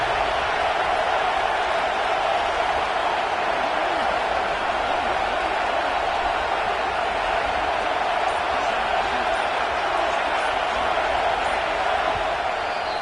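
Stadium crowd noise in a college football video game, a dense continuous roar of fans during a red zone stand, steady and loud.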